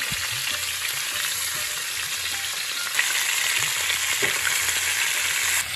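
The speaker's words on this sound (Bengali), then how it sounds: "বেগুনটা ভালো করে ভেজে তুলব" Eggplant pieces, salted and without turmeric, frying in tempered oil in a home kitchen: a steady, close, dense sizzle with a soft crackle, brief stirring scrapes, and no talk.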